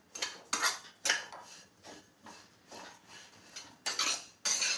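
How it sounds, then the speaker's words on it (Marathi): Carom seeds (ajwain) roast in a pan as a utensil stirs them, making a series of rhythmic scraping, rattling strokes at a close, moderate level with short pauses between. "आता ओवा पण भाजत आलाय"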